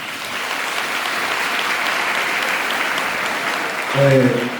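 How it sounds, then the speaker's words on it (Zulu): A university audience at a regional council gathering applauds the Student Representative Council, steady clapping across the hall that swells near the end as a voice briefly rises over it. "Ake sibaphe nje ushayela omkhulu nehlombe elikhulu."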